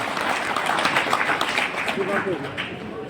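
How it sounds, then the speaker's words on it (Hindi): Crowd at an outdoor political rally during a development tour applauding steadily for about three seconds, a dense wash of clapping with voices mixed in throughout. "एक बार ताली बजाओ मुख्यमंत्री जी"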